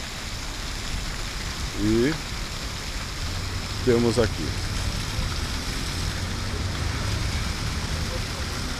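Light rain falls over the ocean shore at Santos on an overcast day, a steady soft hiss of drizzle and surf running throughout, with someone talking briefly near the start.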